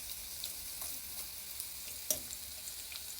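Keto onion rings slid into a hot pan, frying with a faint, steady sizzle and a few soft crackles and one small clink, quiet and without talk.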